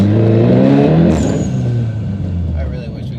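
A front-wheel-drive car fitted with a Unitronic dogbone engine mount launches hard, its engine droning loud and close and rising in pitch, while people talk over it.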